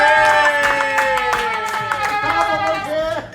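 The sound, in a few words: clapping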